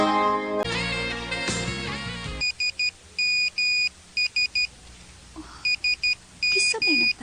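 A mobile phone text message notification chimes in several short, sharp beep bursts in clusters, loud and close, following music that fades out near the start.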